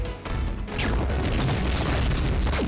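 A shot blasts a gold box in Angry Birds Transformers, a loud, booming burst of explosive noise that rumbles on for a couple of seconds with no speech.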